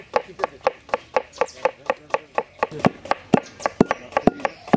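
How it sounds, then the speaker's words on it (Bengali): Roasted cumin being pounded in a mortar for a village-style fish curry: about twenty sharp, evenly spaced thuds in a brisk, steady rhythm, close and fairly loud. "চন্দন, ভাজা জিরে হামালস্তায় টেস্ট করে নেব।"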